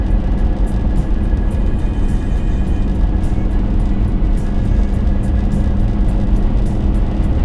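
A Volvo car drives fast on the Autobahn, giving a steady, loud road and engine rumble with wind noise that holds evenly throughout, with no talking.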